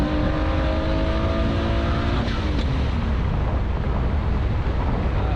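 A loud, close Audi drift car engine roars steadily, then crackles with a few sharp pops and snaps as the pitch drops away.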